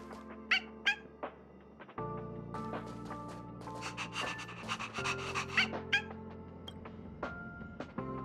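A dog pants in the video game Honkai: Star Rail, with quick rhythmic breaths over a steady game soundscape, moderately loud with scattered higher chirps.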